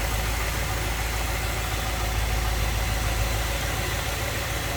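A restored 1958 Edsel Pacer convertible's engine idles smoothly and steadily, a dense even rumble running without change throughout.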